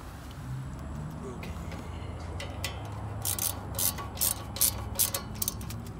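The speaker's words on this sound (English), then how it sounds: "using, again, a 10 millimeter socket with the ratchet" Ratchet fitted with a 10 millimeter socket, worked on a Honda Civic while replacing an ABS wheel speed sensor: a run of quick, close clicks in short bursts over low garage noise.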